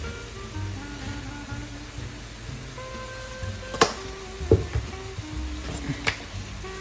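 Bacon, green onions and mushrooms fry together in a pan with a soft, low sizzle, broken by a few light clinks and stirring knocks toward the end, with no talking.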